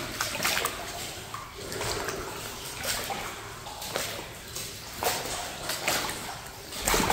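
Someone wades through deepening water inside an abandoned hospital in Illinois, with rhythmic sloshing and splashing surges at each step, close and fairly loud, with a steady watery wash between strides.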